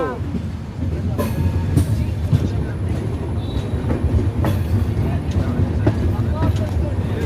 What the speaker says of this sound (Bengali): বেরিয়ে গেল ট্রেন আমাদের হাওড়া থেকে